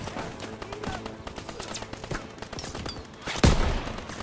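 Call of Duty WWII D-Day battle gunfire rattles in dense rapid bursts of machine gun fire, with a louder close burst near the end, continuous and intense.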